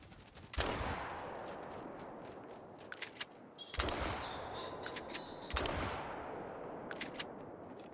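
Three loud bursts of gunfire ring out in theHunter: Call of the Wild as a hunter fires at birds flushed into the air, each shot followed by a long echoing decay over outdoor ambience.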